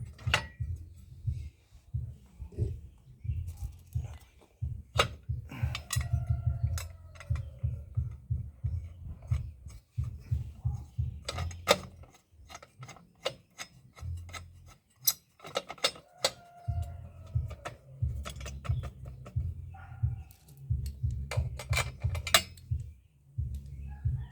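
Bolts on a Mr Pulley clutch being tightened by hand during reassembly on a Honda Silverwing scooter, with irregular ratchet clicks, metallic taps and creaks in short bursts, close and fairly quiet.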